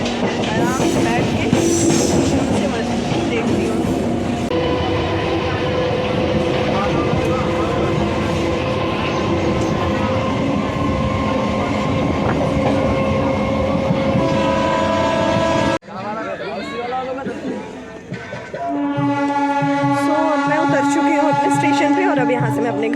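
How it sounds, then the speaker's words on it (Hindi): Passenger train pulling out of a station in India, with steady rumbling wheels, clattering over rails and sustained horn tones, then a quieter stretch before the horn sounds again; voices faintly in the background. "तो अभी मेरी ट्रेन यहाँ से निकल चुकी है।"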